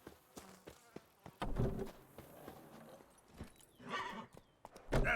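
Hooves of the horse Roach clip-clopping in The Witcher 3, heard as scattered close thuds that settle into a brief trotting run, with a buzzing insect drone and a faint whinny-like sound mixed in.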